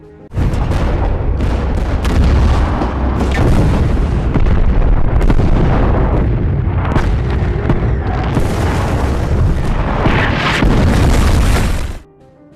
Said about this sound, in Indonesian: Setelah koordinat siap, artileri pun langsung ditembakkan.